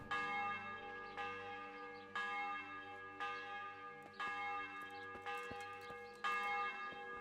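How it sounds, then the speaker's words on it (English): A church bell in Kingdom Come: Deliverance tolls about seven times at a steady pace of roughly one strike per second. Each loud, clear stroke rings on and overlaps the next, with no talking. "he's ringing his bell at the church"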